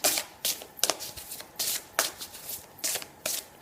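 A deck of mirror oracle cards is shuffled by hand in quick, rhythmic riffling bursts, about eight of them, crisp and near, with no voices.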